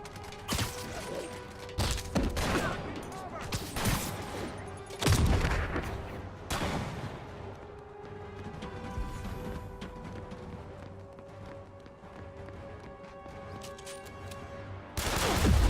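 Gunfire in Marvel's Spider-Man, with repeated loud sniper shots and bursts cracking out at irregular intervals over a steady mechanical game backdrop, a final heavy burst closing the sequence.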